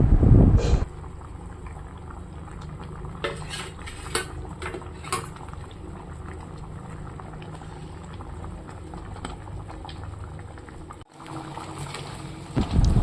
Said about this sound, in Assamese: প্ৰায় উতল আহি গৈছে